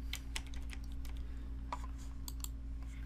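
Rapid typing on a computer keyboard while entering CSS code, a run of light, irregular key clicks close by over a low steady hum, no voices.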